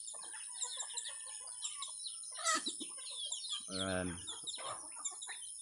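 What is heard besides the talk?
chickens clucking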